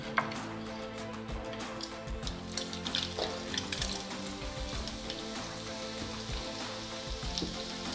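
Leek, chili and garlic sizzle in the fat left from frying meatballs in a pan, a close, steady crackling hiss with scattered pops and spatters throughout, no talking.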